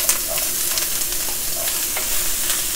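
Onions hiss and sizzle as they hit a hot pan for pansit bihon, a steady close frying crackle with a few scrape-like stirring accents, no voices.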